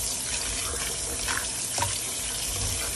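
Broth pours steadily into a pot of Filipino chicken noodle soup (sopas), giving a continuous splashing, running-liquid sound with no talk.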